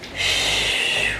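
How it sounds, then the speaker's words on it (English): A deep, audible exhale during a dancer's turnout stretching exercise, a steady breathy rush of air lasting about a second, close and fairly loud with no talk over it. "Deep breath in. Exhale over"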